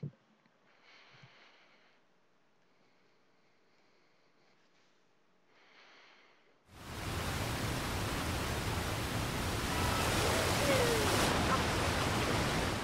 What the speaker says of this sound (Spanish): aquí está cayendo la cascada, no me deja subir.